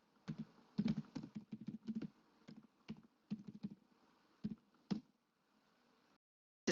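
Computer keyboard typing in bursts of rapid key clicks with short pauses, close and moderately loud, ending in silence before one final sharp click.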